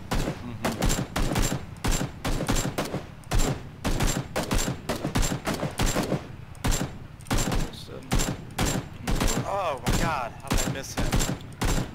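Heavy gunfire in PUBG, with repeated bursts and single shots cracking loudly at an uneven rhythm throughout a chaotic close-range firefight, and a voice faintly heard near the end.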